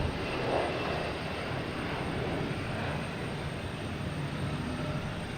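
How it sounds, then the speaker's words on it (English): JetBlue Airbus A321neo arriving from Madrid at Boston Logan, a steady distant engine rumble with broad airy noise, fairly quiet and unchanging throughout. "We also have a JetBlue coming in here from Madrid."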